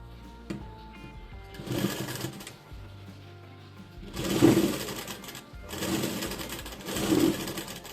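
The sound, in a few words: sewing machine stitching a blouse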